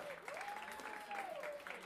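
Concert audience applauding after a drummer is introduced, clapping heard under a sustained tone and some voices, brief and moderately loud.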